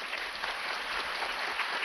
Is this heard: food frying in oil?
no